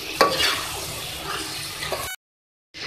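Beef palak gosht with chopped coriander is stirred in a pan, giving a soft scraping and wet sizzling mix for about two seconds before cutting to silence, then resuming briefly.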